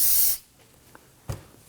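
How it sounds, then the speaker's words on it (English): A solvent spray can lets out one short, close hiss onto the rear brake hose area of a 2018–2025 Toyota Camry. A quiet pause and a small tap follow. "give it a quick spray with some solvent"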